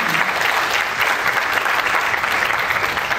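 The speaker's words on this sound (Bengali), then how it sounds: "শঙ্করদা এবং অভিনয়ের জন্য জোরে একটা হাততালি হয়ে যায়" An audience at a stage play applauds loudly and steadily, a dense, continuous wash of clapping throughout with no speech over it.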